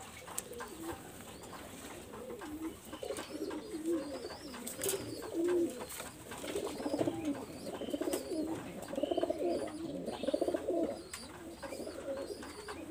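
A Pakistani high-flyer pigeon coos repeatedly in soft, throaty rolling calls, close and fairly steady over low background noise, without any talking.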